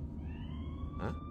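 A police car siren wails steadily under a low rumble of traffic, with a brief burst of noise near the end.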